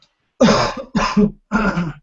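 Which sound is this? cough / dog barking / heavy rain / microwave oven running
cough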